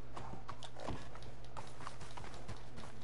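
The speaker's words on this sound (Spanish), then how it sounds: "ha venido el caballo y le ha pasado por todo lo alto." Horse hooves clip-clopping in Red Dead Redemption 2, a steady run of hoofbeats passing close by over a busy layer of in-game ambience, with no talking.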